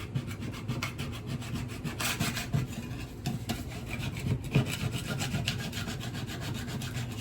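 Scraper rasps against a wooden landing floor in repeated rough strokes, a soft close scratching rhythm with no talk.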